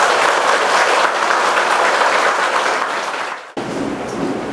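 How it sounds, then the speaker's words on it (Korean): A hall full of participants at a Buddhist university precept-ordination ceremony gives loud, dense applause that cuts off abruptly, followed by a brief murmur of room noise. "큰 박수 부탁드립니다"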